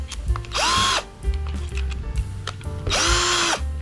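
A cordless drill bought from Temu whirs in two short bursts, each spinning up, holding steady for about half a second and winding down, close to the microphone and with no talking.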